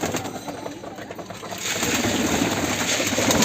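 Racing and Giribaz pigeons flock down at feeding time, low cooing mixed with a rising rustle and scatter of wings and feed, growing louder and busier partway through.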